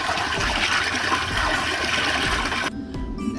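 Tangy original Sunny D orange drink pours in a steady gushing stream into a punch with lemon lime soda, splashing continuously before the flow cuts off abruptly near the end, leaving a faint trickle.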